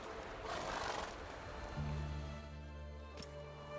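Roach the horse in The Witcher 3 gives a whinny with clip-clop hooves, followed by a low sustained tone, fairly close and without speech.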